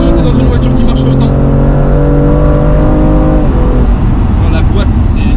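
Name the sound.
BMW M2 Competition car engine accelerating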